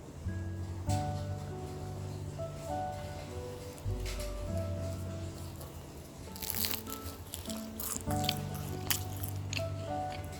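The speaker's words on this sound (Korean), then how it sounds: "페스츄리처럼 이게 바삭바삭해." Crisp flaky pastry of a homemade Portuguese egg tart bitten and chewed up close, with crunchy crackles clustered mid-clip and toward the end over a low steady background hum.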